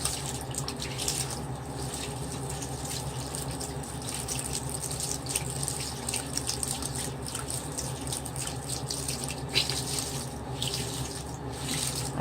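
A beauty blender sponge is washed with a bar of soap under a running bathroom tap, a steady close rush of water with soft squishing and rubbing throughout and no talking.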